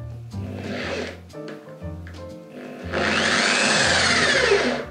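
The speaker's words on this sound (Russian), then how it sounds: "попробую закрепить элемент в дрель" A drill spins a wooden part against sandpaper, giving a rough, whirring grind that starts and stops in short bursts before settling into a longer, louder sanding run.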